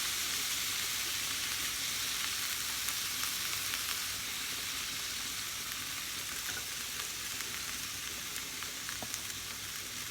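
Food frying steadily in a pan over low heat, a constant bright sizzle with faint occasional stirring clicks, close and even throughout.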